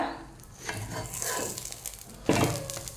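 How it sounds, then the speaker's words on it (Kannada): An egg for an egg roll fries in a pan on medium heat, a soft sizzle broken by scraping and rubbing strokes of a spatula and a louder scrape near the end, close and without speech. "ಮೀಡಿಯಮಲ್ಲಿ ಉಟ್ಕೊಂಡು ಫ್ರೈ ಮಾಡಬೇಕು ಸ್ವಲ್ಪ ಫ್ರೈ ಆಗಲಿ"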